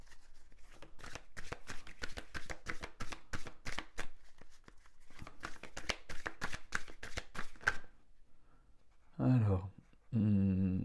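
A deck of cards is shuffled for an energy card reading, a rapid run of crisp riffling flicks in two bursts, followed by a short spoken phrase at the end.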